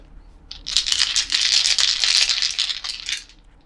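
Six oversized chunky dice rattle in a hand, a close, continuous clicking clatter that starts suddenly, sustains for about three seconds, then tapers off, with no voices.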